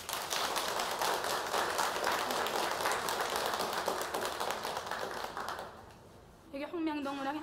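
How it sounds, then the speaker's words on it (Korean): A group of North Korean workers gives a burst of sustained, close-sounding applause that fades after about six seconds, followed by a voice speaking. "이 동무들 축하해서 크게 박수를 쳐줍시다"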